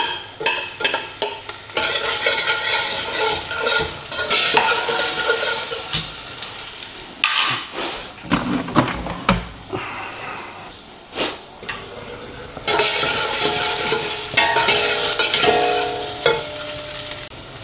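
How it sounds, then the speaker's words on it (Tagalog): Garlic sautéing in a pan for chicken sopas, with steady sizzling and frequent scraping, stirring strokes of a utensil against the pan. Close and loud, with a brief quieter pause midway, and no talking. "Ito, igisa na natin ang ating bawang."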